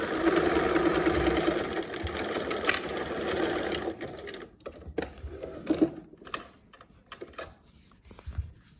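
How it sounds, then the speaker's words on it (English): A sewing machine stitches slippery fabric in a fast, steady mechanical whir, then runs in shorter stop-start bursts that grow quieter. "now the sewing machine often has trouble grabbing"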